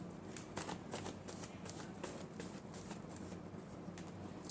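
Tarot cards are shuffled in a steady, close run of soft riffling flutters and taps that stays fairly quiet and continuous, with no speech over it.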